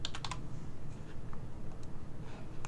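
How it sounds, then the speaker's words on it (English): Soft clicks of computer keys being typed in short bursts, a quick flurry at first then scattered taps, close by over quiet room noise. "And then you can start typing Python commands into any code cell."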